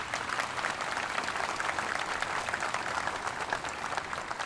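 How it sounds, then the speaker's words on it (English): Commencement audience at a community college ceremony applauding award recipients, a dense, steady wash of many hands clapping that holds at even loudness throughout with no talk. "Let's give them a round of applause."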